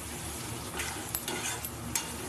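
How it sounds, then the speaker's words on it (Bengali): Ground spice paste of cumin, coriander, chili and turmeric fries in oil for a hilsa fish curry, giving a soft, steady sizzle with a few light scrapes of stirring. "একটু বেশিক্ষণ কষিয়ে নিতে হয়, ভালো করে নেড়ে ছেড়ে, যতক্ষণ না তেল ছেড়ে আসছে ততক্ষণ ভালো করে একটু কষিয়ে নিতে হবে।"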